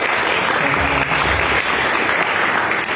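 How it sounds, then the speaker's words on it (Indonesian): A crowd claps steadily and loudly for the whole moment, giving dense, continuous applause for a community of painters at a Javanese wayang performance held in Gedung Monod Diephuis, Semarang. "tepuk tangan untuk komunitas"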